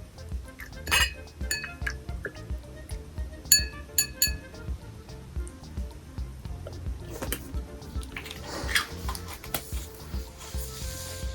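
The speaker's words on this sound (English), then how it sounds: "Make sure you stir your colors." A spoon stirs Easter egg dye in a glass, giving repeated bright clinks and taps against the glass, some in quick clusters, near and moderately loud over a low background hum.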